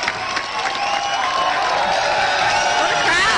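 A college auditorium crowd at a Ron Paul event at the College of Charleston, South Carolina, cheers, whoops and claps in one continuous close roar, with high shouts rising over the din.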